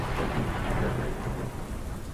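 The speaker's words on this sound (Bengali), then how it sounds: "বৃষ্টির বেগ হঠাৎ খুব বেড়ে গেল।" Heavy rain pours steadily with low rumbling thunder beneath it, a dense continuous storm effect for an audio drama with no voices.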